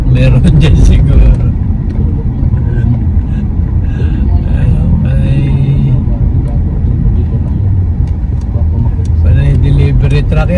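Delivery trucks, many of them electric, roll past near a Seattle delivery lot. A continuous low road rumble swells and fades as the vehicles go by, with voices talking over it.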